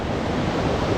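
Fast river water, swollen after overnight rain, rushes past a campsite in Rishikesh as a steady, loud, broadband roar with no breaks.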